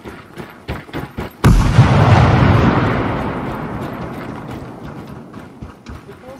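A grenade bursts over a wall in the tactical shooter Ground Branch, preceded by soft footsteps; a single loud, close blast booms and then rumbles away over several seconds.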